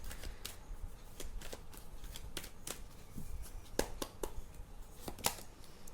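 Tarot cards being shuffled for a reading, a steady papery riffle of rapid soft flicks with sharper snaps near the end, close and fairly quiet, with no talking.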